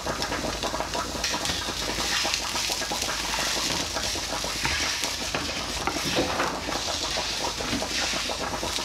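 Italian sausage with the casing squeezed off is broken up in a dry non-stick skillet, giving a dense, continuous sizzle and crackle with constant scraping and stirring throughout.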